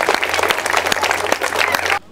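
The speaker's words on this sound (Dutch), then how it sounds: "wil ik voor hun een heel groot applaus" A large group applauds school team members at the opening of a new school on the first school day, dense steady clapping for about two seconds before it cuts off abruptly.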